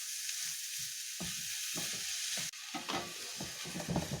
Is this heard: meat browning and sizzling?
yes